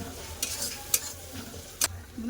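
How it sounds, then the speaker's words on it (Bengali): Softened tomato with coriander, chili and turmeric powders stir-fried in a pan, with a steady close sizzle and three distinct scraping strokes of a spoon against the pan, and no voices. "এবার ভালো করে সব কষে নেবো"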